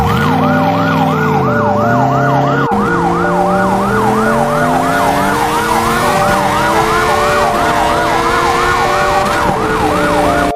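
A loud, close ambulance siren wails continuously in a rapid rising-and-falling yelp, with a lower tone shifting partway through, layered over traffic noise.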